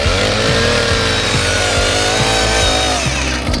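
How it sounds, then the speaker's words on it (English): Gas-powered auger engine running for a hole in a fig grove, a loud steady two-stroke drone close by with rhythmic low pulsing, no talk. "What you have here is an auger."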